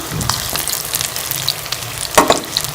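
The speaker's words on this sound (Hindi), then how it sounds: "हम इसको अच्छी तरह से गोल्डन कलर आने तक और इसको मीडियम फ्लेम पे फ्राई करेंगे चिकन को" Chicken pieces frying in a pan over a medium flame, a close, crackling sizzle broken by sharp spattering pops and a louder burst of crackle toward the end.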